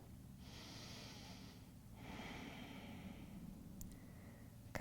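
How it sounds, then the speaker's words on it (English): A slow, deep yoga breath is drawn in and let out through the nose, close and soft, followed by a second long breath, with no talking. "One more big breath here."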